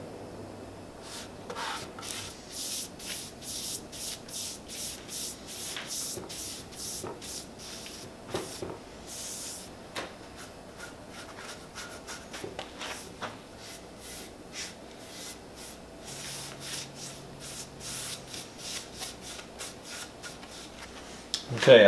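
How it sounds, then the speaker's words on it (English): Red oak stain is wiped by hand onto a wooden board for a campfire chair, making soft, repeated close rubbing and brushing strokes in an irregular rhythm. "so I'm going to go ahead and apply some stain."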